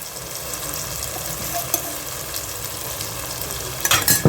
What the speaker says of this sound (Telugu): కొంచెం కరివేపాకు, ఈ అల్లం చిన్నులపై పచ్చి వాసన పోయే వరకు దీన్ని ఆయిల్లో ఫ్రై చేద్దామండి.